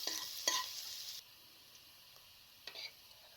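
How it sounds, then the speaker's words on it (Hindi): Crushed garlic fries in a kadai with a soft, faint sizzle, broken by a few light scrapes of stirring at the start and again near the end. "एक अलग कढ़ाई में मैंने 1 चम्मच लहसुन कूटा हुआ लिया है। इसको हल्का सा लाइट सा ब्राउन करना है।"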